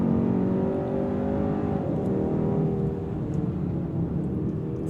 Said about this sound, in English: I can turn on the Active Sound Design, which uses the sound system to create an enhanced acoustic environment.